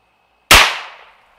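A single sharp .22 WMR rifle shot with a hollow point bullet, loud and close, its sudden crack followed by a brief decaying ring over quiet background.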